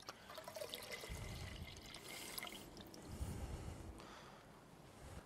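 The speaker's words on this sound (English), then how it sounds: "we're going to add 250 mils of water to make it up to 500 mils" Water is poured into hydrochloric acid to make up 500 ml, giving faint, uneven splashing and trickling with a few louder gushes, quiet and close, with no one speaking.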